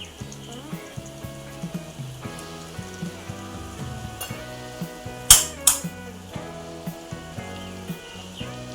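Potatoes fry in hot oil as coriander-cumin powder is tipped in, a steady close sizzle with repeated light stirring knocks and a pair of sharp louder crackles midway, no talking.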